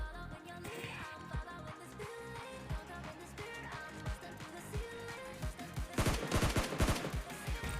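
SCAR rifle shots in PUBG Mobile Lite, a few sharp bursts of gunfire over game music and effects, growing denser toward the end.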